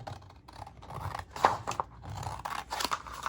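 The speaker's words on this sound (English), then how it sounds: "I'm going to take my scissors and I'm going to cut off" Scissors snipping paper for a handmade 6x6 Christmas mini album, a series of close crisp cuts with small rustles of paper between them, no talking.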